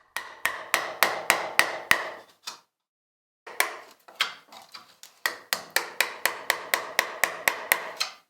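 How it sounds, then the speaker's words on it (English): A 1/4 inch mortise chisel chops a mortise in wood by hand, sharp evenly spaced mallet strikes ringing in two runs separated by a short pause, close and clear with no talking. "uses a 1/4 inch mortise chisel to cut this mortise"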